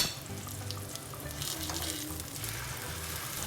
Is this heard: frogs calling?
no